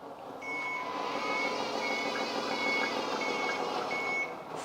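Reversing warning beeps from a new fire-fighting ladder truck with screw-driven support legs, a regular series of evenly spaced high beeps over a low engine hum, fairly faint and without talk.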